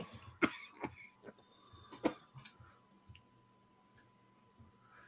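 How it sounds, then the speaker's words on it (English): Several sharp coughs and throat clears, close and fairly loud, come in bursts over the first two seconds, then a few smaller clicks and a faint steady hum in a quiet room. "Sorry about coughing in your ear."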